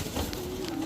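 Brief, soft cooing from a Rampuri pigeon, a short low murmur set against steady background noise.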